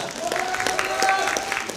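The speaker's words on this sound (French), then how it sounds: "maintenant, on va applaudir Ananas qui a récupéré une deuxième place." Applause for a contestant during a live manga and anime quiz show at a gaming convention, steady clapping across the whole stretch with a voice and music-like tones running underneath.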